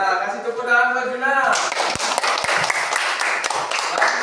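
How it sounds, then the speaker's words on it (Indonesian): A classroom of students claps for a classmate during a maths lesson, scattered hand claps starting after a spoken line and continuing loud and close, with voices mixed in. "kasih tepuk tangan buat Juna."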